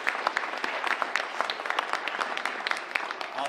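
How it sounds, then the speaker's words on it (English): An audience applauds a student performance at a school arts showcase: dense, steady clapping from a crowd at moderate loudness, sustained evenly for a few seconds with no voices on top. "Let's give them one round of applause right there."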